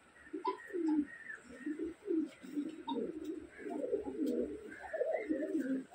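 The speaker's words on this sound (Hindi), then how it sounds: "एक से बढ़कर एक कबूतर है माशाल्लाह।" Fancy pigeons coo in a loft in Mumbai, with soft, repeated throaty bursts from several birds overlapping in an irregular rhythm, fairly close and quiet, with a faint chirp here and there.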